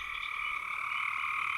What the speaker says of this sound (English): that's far from the only frog calling tonight